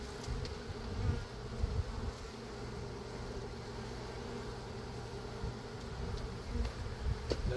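Honeybees hum in a dense, continuous buzz around an open hive during a frame inspection, a soft, close drone with occasional louder passes of individual bees and no talking.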